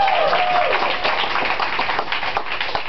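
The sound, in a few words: audience applause for dental students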